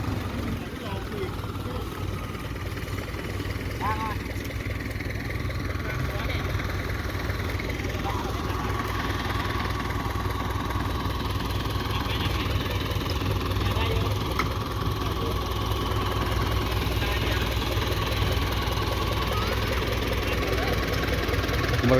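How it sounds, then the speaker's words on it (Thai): A boat is hauled ashore on a beach with its engine running, giving a continuous, fairly loud mechanical rumble that holds for the whole stretch, with faint voices in the background. "การยกเรือขึ้นบกครับ"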